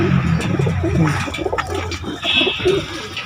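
A racing pigeon owned by a Haryana pigeon keeper coos in low, repeated throaty phrases up close, with a few faint chirps and rustles around it.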